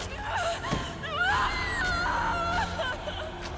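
A scream from the animated fantasy series Vox Machina: a loud, sustained cry that wavers up and down in pitch for several seconds, close and dominant, with no talk over it.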